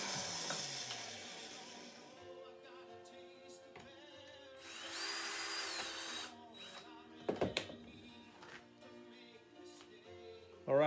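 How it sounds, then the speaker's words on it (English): Power drill boring into a deer antler from the underside, quiet whirring bursts that start and stop several times, with short louder scraping moments near the end. "I could flip the antlers over and drill from the bottom side."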